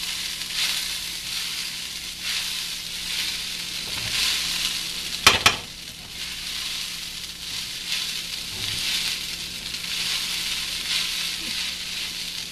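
Sago (sabudana) upma stirred and fried in a pan, giving a steady, moderate sizzle with a soft scrape of stirring and a couple of sharp clinks around the middle. No one speaks.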